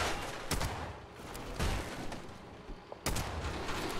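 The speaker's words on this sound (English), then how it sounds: "Protect me, robots! Shoot it! Shoot her!" Bursts of video-game gunfire from robots blasting away, a rapid stuttering fusillade with heavy single shots punctuating it at intervals, loud and close with no talking.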